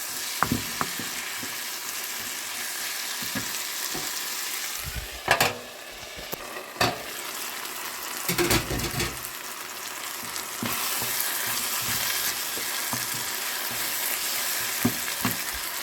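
A stuffed crêpe filling with saffron colouring sizzling steadily in a pan, with a few louder clatters and stirring noises breaking through the continuous frying.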